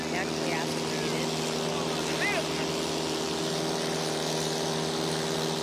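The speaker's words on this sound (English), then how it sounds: "Those are the aircraft running the Yamaha snowmobile engines" STOL aircraft powered by Yamaha snowmobile engines race past in a drag race, giving off a steady droning engine and propeller hum with a faint passing whine, under continuous commentary.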